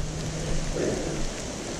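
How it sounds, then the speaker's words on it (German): Pouring rain outdoors in Slovakia, a steady, dense hiss of downpour with faint low rumbling underneath, continuous and fairly loud with no voices. "Wir sind heute bei strömendem Regen in der Slowakei unterwegs."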